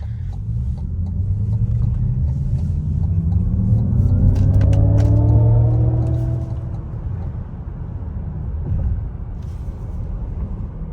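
2025 Cadillac Optiq electric car accelerating, a rising synthetic drive hum sweeping upward in pitch over steady road rumble from inside the cabin.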